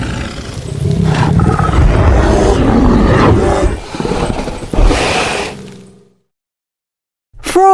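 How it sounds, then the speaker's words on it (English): A wild bear gives a loud, rough, growling roar in long throaty bursts up close, then falls silent before an unrelated animal call begins at the very end. "Bear."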